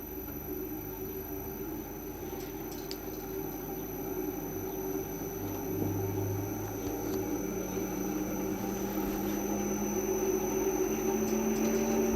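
A honey extractor spinning up while extracting spring honey, giving a steady mechanical hum with tonal whine that climbs slightly in pitch and grows a bit louder as the revs increase.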